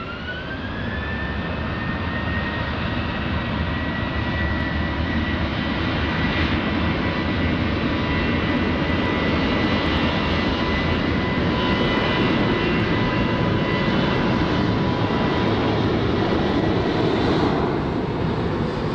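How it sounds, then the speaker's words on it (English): A jet aircraft is taking off from the runway at Lisbon Airport. A loud, steady engine roar with a rising whine holds for the whole stretch, close and continuous, with no voices. "runway 20, clear for immediate takeoff"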